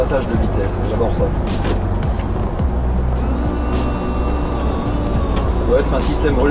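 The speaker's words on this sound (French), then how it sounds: "c'est le bruit des passages de vitesse." Coach bus descending a mountain road, its gearbox giving off a short mechanical clunk or hiss at each gear change over a steady low engine drone and road rumble, with voices talking inside the cabin.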